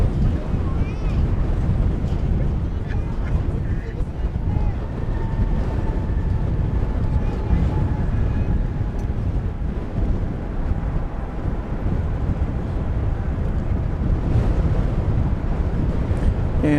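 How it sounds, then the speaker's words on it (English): Strong wind buffets the microphone at an airport, a steady, rough roar that stays loud and close throughout, with a person talking over it. "I can hardly hear myself think in this wind"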